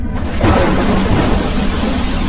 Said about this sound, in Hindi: बारिश होने लगी